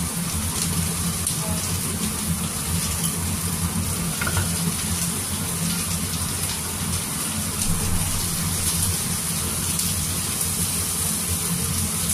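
Food fries lightly in a pan with a steady, close sizzle and faint stirring scrapes, continuous throughout with no talk.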